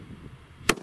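A FUNKE Honey Badgers firecracker, a P1 noise-maker, goes off in one sharp, loud bang near the end, standing out against a quiet outdoor background.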